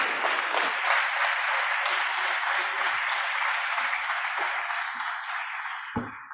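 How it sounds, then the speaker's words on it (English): Warm, sustained applause from an audience at a Trillium Health Partners announcement for Mayor Bonnie Crombie, a dense steady clapping that carries on for several seconds before thinning and ending. "So let's give a warm round of applause to Mayor Bonnie Crombie."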